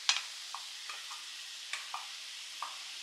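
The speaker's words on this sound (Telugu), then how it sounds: "ప్రాన్స్ యాడ్ చేసిన తర్వాత బాగా మిక్స్ చేసుకోవాలి." Prawns being stir-fried with broccoli in a pan, heard as a soft, steady sizzle broken by a few quiet clinks and scrapes of stirring, with no voices.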